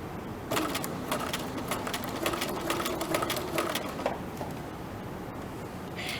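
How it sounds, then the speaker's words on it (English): A sewing machine runs in a steady, close mechanical hum as it stitches fabric, with a faint rhythmic clatter in the middle as it back-stitches before it continues. It is moderately quiet, and no one speaks. "I'm gonna start sewing, back stitch"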